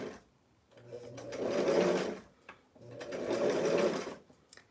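A sewing machine stitches slowly around a curve on a Western blouse, running in two sustained bursts with a short pause between, close and fairly loud.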